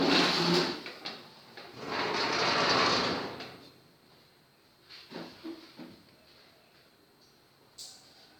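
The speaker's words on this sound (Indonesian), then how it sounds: "tutup sebagian pintu." A door is pushed partly closed indoors, giving a rough sliding swish that fades, followed by a few soft knocks and light handling noises nearby.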